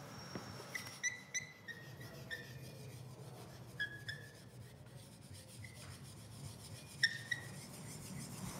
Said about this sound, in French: Avant de peindre, je frotte le bâton d'encre pour fabriquer un petit peu d'encre.